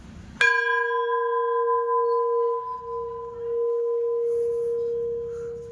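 A single temple bell strike at a temple entrance in Kolhapur rings out clearly and then hangs in a long, steady metallic hum that slowly fades, with faint low rumbling in the background.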